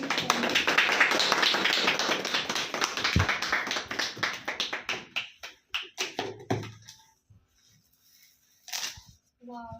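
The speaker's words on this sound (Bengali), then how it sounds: "হাততালি।" A small group claps loudly and briskly at first. The applause thins into scattered, separate claps and dies away, and a few stray taps follow in the near silence.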